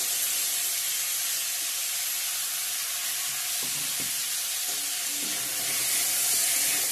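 Drumstick pieces and tomato sizzle steadily in hot oil with a little turmeric for masoor dal, a dense continuous frying hiss with a few soft stirring knocks near the end, no voices.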